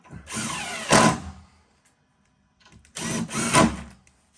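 A power drill drives the last few screws into a door during a locksmith fitting, two separate bursts of whirring motor rising in pitch as each screw seats, with a short quiet gap between them.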